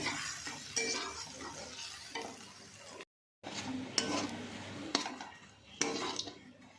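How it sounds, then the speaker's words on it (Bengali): Ground pumpkin-leaf paste frying in mustard oil as it is stirred, with quiet sizzling and repeated utensil scrapes and clinks against the pan, close up, briefly cut to silence midway. "এবার বেটে রাখা পাতাটা দিয়ে দিচ্ছি এবার ভালো করে নাড়াচাড়া করে আমি এটা শুকনো করে নেব একদম"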